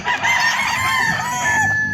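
Gamecock roosters crowing close by, with a long drawn-out cock-a-doodle-doo overlapped by a second bird's crow against a busy farmyard background.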